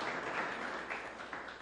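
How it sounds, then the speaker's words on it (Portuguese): Congregation applauding in a church, a steady wash of many hands clapping together at moderate level, no voices over it. "Você pode aplaudir o Senhor Jesus por isso."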